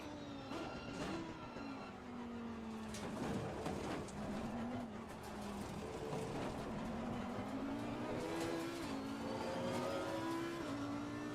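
Porsche 911 race car engine at Spa in the Assetto Corsa Competizione game, revving and shifting continuously with rising and falling pitch, loud and close, with gear changes and brief tire noise throughout.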